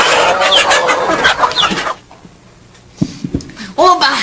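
A hen clucks in a series of short, abrupt notes after a stretch of loud talk, with a brief quiet gap before the clucks.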